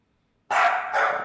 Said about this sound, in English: If you hear barking in the background, that's just dog.